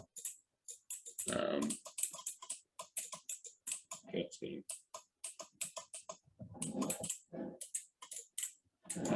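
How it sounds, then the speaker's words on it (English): Relays on an OpenWeedLocator weed-detection device resting on a white surface indoors click rapidly in irregular bursts, close and fairly quiet, with a voice talking over them at times. "you'll be able to hear those relays clicking because it's just sitting on this white surface"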